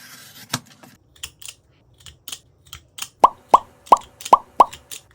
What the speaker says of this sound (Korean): 나와 있는 부분을 가위로 잘라줄게요